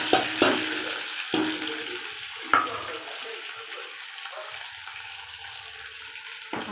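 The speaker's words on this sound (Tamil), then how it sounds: "கருவேப்பிலை வெங்காயத்தையும் போட்டு வதக்கலாம்." Mustard seeds, fenugreek, curry leaves and onion sauté in hot oil, opening with a few sharp bursts as they hit the pan and then settling into a softer steady sizzle with light stirring, close by.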